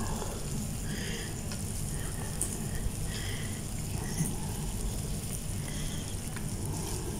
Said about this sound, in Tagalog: lutuin lang din natin yung ating hipon